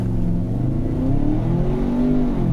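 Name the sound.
Ford Bronco Sport launch acceleration in sport mode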